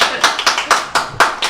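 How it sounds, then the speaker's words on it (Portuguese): Parish audience clapping for Padre Rude at a Santa Luzia church broadcast event, a short burst of distinct, fairly close hand claps in a loose rhythm of roughly six beats. "Uma salva de palmas para o Padre Rude."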